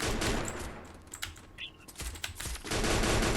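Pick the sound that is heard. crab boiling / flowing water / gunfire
gunfire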